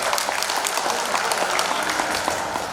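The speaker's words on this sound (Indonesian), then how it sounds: "Tepuk tangan buat Pak Gawita itu." Audience applause for Pak Gawita, a professor welcomed at an Indonesian gathering: steady, dense clapping from a crowd that fills the whole moment at an even level, with no voices standing out.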